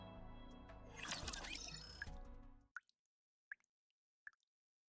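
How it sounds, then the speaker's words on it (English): Water droplets fall one by one in a quiet, echoing space: a few sharp isolated drips with long silences between, following a dense, noisy wash of sound that cuts off abruptly. "The sound of water droplets falling."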